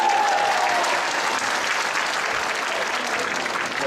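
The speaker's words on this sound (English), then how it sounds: "Can you give him a round of applause?" Audience in a church applauding a pastor after his sermon, a dense, steady round of clapping lasting several seconds with no voices on top.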